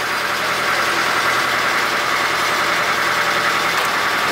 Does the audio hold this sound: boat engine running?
yes